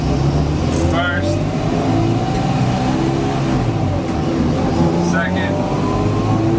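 A car engine revs as it is shifted through the gears without the clutch. The engine note climbs steadily, and someone talks over the constant road and engine rumble.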